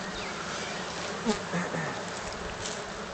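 Black honeybees buzzing loudly and continuously at close range during a spring hive inspection, a dense steady drone with small surges as the frames are handled.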